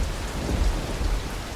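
A storm sound effect of heavy, steady rain with a deep rumble of thunder underneath, a dense, loud roar of rainfall with no voices.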